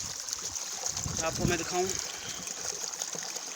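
Water rushes fast downhill below the Maya Dam at the foot of Karonjhar, a steady broad hiss under someone talking near the microphone.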